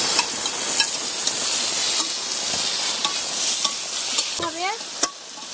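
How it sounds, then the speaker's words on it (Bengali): Fried potato and brinjal sautéed in a spice masala, a steady loud sizzle with repeated scraping stir strokes and a few sharper clinks near the end, no talking. "আলু ও বেগুনের সাথে ভালো করে কষিয়ে নেব"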